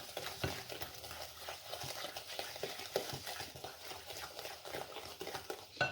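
Eggs are stirred into a batter for Mississippi mud bars one at a time, with soft, quiet, irregular scraping and tapping of the utensil against the bowl and no voices.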